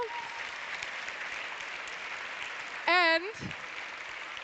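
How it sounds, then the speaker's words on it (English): An audience at the European cinema LUX Audience Award 2025 ceremony applauds in a steady, even rush of clapping that holds throughout, and a voice speaks a single word partway through. "Please give a big round of applause to all three of them as well."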